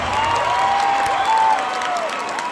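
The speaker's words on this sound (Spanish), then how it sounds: "¡Aplausos, aplausos, aplausos, aplausos!" Concert crowd at a Los Angeles Azules show in Phoenix clapping and cheering, dense applause with whoops, while a sustained tone rises and falls over it.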